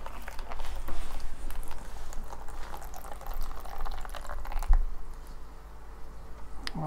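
Water drains and trickles out of the hoses of an Eheim Classic 250 external aquarium canister filter during cleaning, a steady, close liquid gurgle with a small knock near the end.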